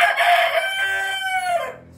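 A rooster crows once, a loud drawn-out call that falls in pitch and trails off near the end.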